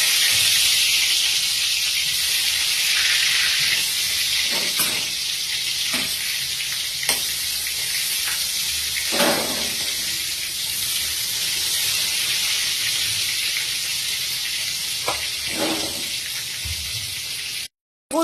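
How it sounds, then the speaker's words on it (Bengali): Eggplant slices frying in mustard oil in a kadai, a steady loud sizzle and hiss throughout with occasional sharper pops and crackles. "বেগুন ভাজা হচ্ছে, আর এটা আমি করছি সর্ষের তেলে রান্নাটা।"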